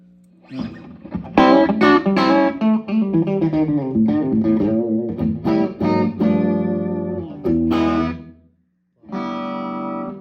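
Clean, bright electric guitar through a Bartel tube amp with a Fender-style tone, playing a run of chords and single notes with a warm amp tone, ending on a sustained chord after a brief pause.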